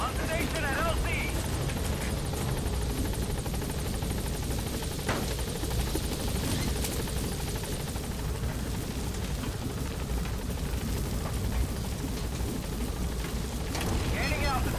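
A helicopter in the video game Metal Gear Solid V gives off a steady, loud rotor drone and whine throughout, with radio-style voice chatter heard over the constant engine noise.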